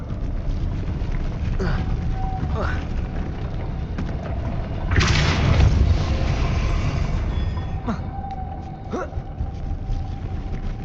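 A Depulso force spell cast in Hogwarts Legacy hits as a brief, loud burst of deep rumble and noise over a steady game ambience with occasional chirping tones.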